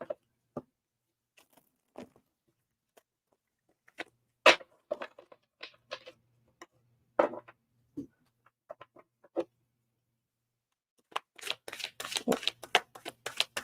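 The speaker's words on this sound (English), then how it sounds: "One more shuffle." Scattered card taps and flicks, then a dense, rapid burst of tarot card shuffling near the end, close and fairly crisp.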